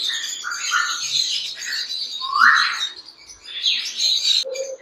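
Rare breeder-pair budgies in a cage keep up a continuous close chatter of bright chirps, warbles and rising squeaks, busy and fairly loud throughout.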